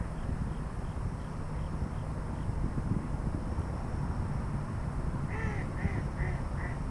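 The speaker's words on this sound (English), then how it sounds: "That duck just keeps laughing at me." A duck quacks in a short burst of four or five quacks near the end, over steady outdoor background noise on a lake during autumn bass fishing.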